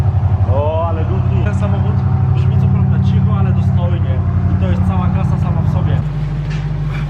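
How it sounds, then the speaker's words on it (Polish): A first-generation BMW 8 Series E31, tuned to 770 hp, starts from cold inside a garage. Its engine settles into a steady, deep idle that drops in tone near the end, with people talking over it throughout. "poprosimy właściciela o odpalenie auta na zimnym silniku"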